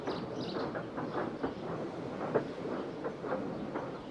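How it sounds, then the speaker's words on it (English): A steam train rolls along rails with a steady rhythmic chugging and clatter, moderately loud and continuous, with no voices. "Thomas pushed the breakdown train alongside."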